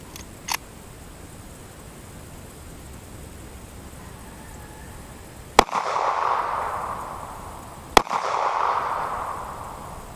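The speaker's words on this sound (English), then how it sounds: "next firearm we're going to shoot is a SIG P238 in 380." A SIG P238 handgun chambered in .380 fires two loud, sharp shots about two seconds apart at a polyurea target outdoors, each followed by a brief rushing echo over steady background hiss.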